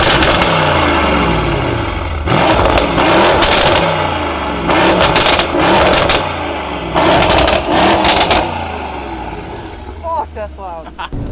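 Loud Mercedes E63S engine revving in repeated bursts, each sharp blip rising and falling close by, with a clattery exhaust roar between quieter idle stretches and voices near the end.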